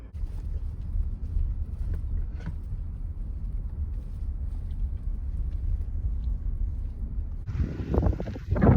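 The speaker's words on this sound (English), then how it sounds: "it's just really cold and windy" Strong cold wind buffeting around a parked van by a road, a continuous low rumbling roar close to the microphone, swelling into a louder gusty rush near the end.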